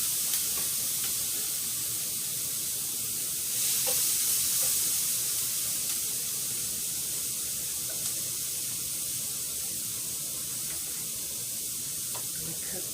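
Food frying in a pan gives a steady close sizzle and hiss that swells briefly midway, with faint clinks of stirring and no clear voices.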